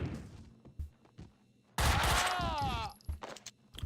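A grenade blast in Max Payne 2 erupts as a loud, sustained roar of crashing debris and rattling gunfire, preceded by scattered thuds and game sounds, with the burst lasting over a second before tapering into sporadic bangs.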